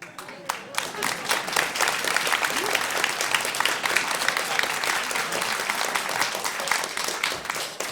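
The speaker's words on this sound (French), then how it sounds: "Je suis content que vous ayez applaudi maintenant" A concert audience applauds a performance of a song, a continuous, moderately loud patter of many hands filling the room, with faint voices mixed in beneath the clapping.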